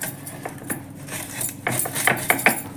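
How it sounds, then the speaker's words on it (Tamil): A knife works through a raw mango to cut around the seed for pickle, giving a series of sharp clicks and scraping taps against a hard surface, close and fairly loud, with no voices. "இப்போ கொட்டையை காமிக்கிறேன் பாருங்கள் எப்படி கட் பண்ணுறதுன்னு."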